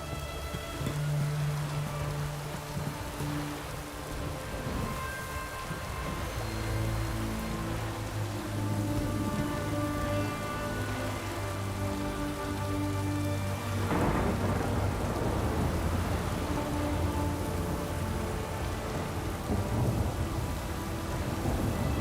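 Steady heavy rain drums on surfaces while deep rolling thunder rumbles again and again during a storm in The Witcher 3: Wild Hunt, with no one speaking.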